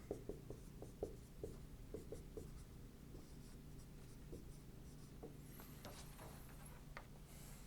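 A graph sketched by hand with pen or pencil on paper, faint scratchy strokes tapping in quick clusters, then softer drawing further along.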